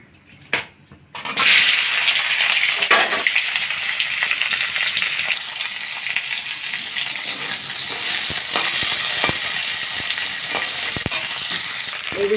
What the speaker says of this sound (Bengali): এই যে সব পেঁয়াজ কুচি সিমলা মির্চ আদা রসুন কুচি সব দিয়ে দিচ্ছি তেলের মধ্যে